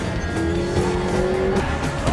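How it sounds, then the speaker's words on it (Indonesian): Car chase from the film John Wick with a long tire squeal drawn out over a loud revving engine, busy and close throughout. "berpindah pada kejar-kejaran mobil John dan Vigo"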